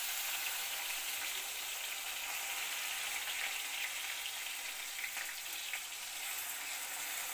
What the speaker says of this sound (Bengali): পেঁয়াজ বাটাটা একটু ভালো করে ভাজা হইব।